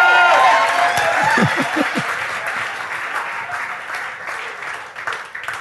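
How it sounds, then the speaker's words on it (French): Congregation at a church service applauding and cheering, loud clapping that gradually fades, with a voice speaking over the start. "Les gens acclament, ils sont contents."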